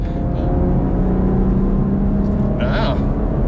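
A base-model Ford Mustang muscle car driving, its engine rumbling and pulling steadily and loudly up close throughout, with a brief higher whir near the end.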